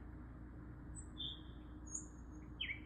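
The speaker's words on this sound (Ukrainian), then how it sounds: "і заспівали солов'ї" Nightingales singing in spring: a few short, faint chirps and trills scattered over a steady low background hum.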